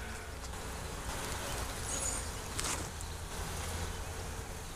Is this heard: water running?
no